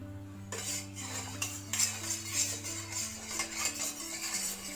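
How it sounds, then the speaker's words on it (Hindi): A spoon stirs salted lentil batter in a bowl, clinking and scraping against the sides in quick irregular strokes, close and clear with no voices. "अच्छे से चला दूँगी।"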